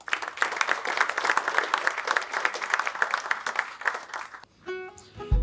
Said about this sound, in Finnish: annetaan oikein isot aplodit näille harjakaisille ja teidän avajaisille